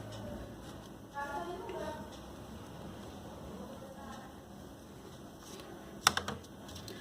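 Keys on a financial calculator are pressed in a few faint, scattered clicks, with a sharper cluster of taps near the end, under quiet background talk.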